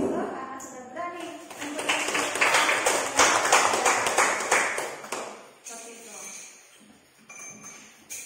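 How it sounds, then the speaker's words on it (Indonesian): Classroom applause for a student, a burst of many hands clapping that swells to a dense, loud patter and then thins out, with a voice speaking at the start and again as the clapping fades. "Bisa berikan aplaus buat Menggo karena sudah berani"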